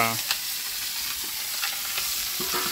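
Pumpkin and chili frying in a pan are stirred, a soft, steady sizzle under light scraping and occasional clinks of the spoon, heard close and fairly quiet.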